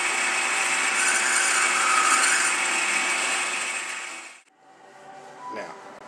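Machining of an aluminum EDF fan housing produces a steady, high, whining cutting tone for about four seconds before it drops away, leaving quieter machine hum and a faint brief squeal.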